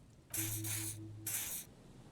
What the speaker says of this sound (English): He douses you with the odd-smelling spray